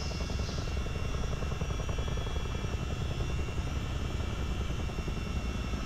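A CH-47D Chinook twin-rotor helicopter taking off in Microsoft Flight Simulator, its engines roaring steadily with a continuous rapid rotor thump and no pause throughout.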